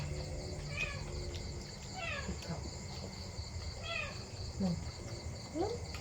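A small kitten meows several times, the calls short and fairly close, over a steady background of crickets and other insects outdoors; faint voices murmur in the background.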